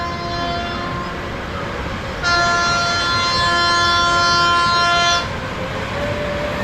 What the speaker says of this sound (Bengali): যে রাইডটি দেখতে পাচ্ছেন এটা সবার সুপরিচিত একটি রাইড, যেটা হলো ট্রেন রাইড